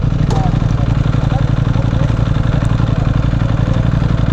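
A Ducati Hypermotard motorcycle idles close by, its engine a steady loud thumping rhythm with light mechanical clatter running throughout without a break.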